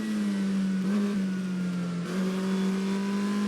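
A 1960s Alpine A210 sports car prototype engine holds a steady, loud drone at racing speed, with slight pitch dips near one and two seconds, heard close and alone.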